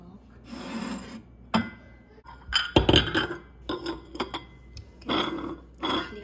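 Glass cups clink and knock together as they are handled and set down, with sharp close chinks, rubbing scrapes and rustling, while someone talks at moments.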